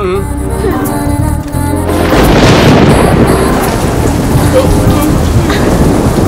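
Heavy rain pours down with rumbling thunder, loud and close. It surges in after a couple of seconds of quieter tonal sound and then stays dense and steady.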